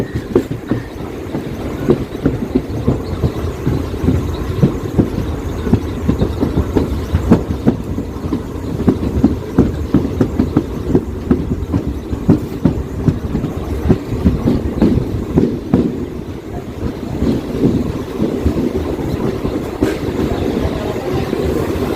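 Aboard the Mangaluru–Coimbatore Intercity Superfast Express nearing Kanhangad station, a steady low rumble carries continuous clickety-clack of wheels over rail joints, loud and close throughout.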